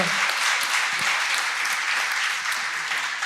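Steady audience applause fills a break at a Romanian panel event, dense and even clapping from a crowd sustained throughout with no voices on top.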